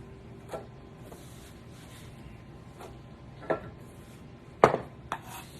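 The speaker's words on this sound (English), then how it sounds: "when you go to cut it, it's chopped. That's chopped onion right there." An onion being chopped with a knife on a board, a few sparse sharp thuds spaced unevenly over several seconds, close and fairly quiet, the last strikes a bit louder.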